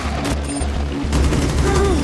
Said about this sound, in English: you'll be thankful you left the suppressor at home and nearly doubled the damage output of Finka's 6P41 LMG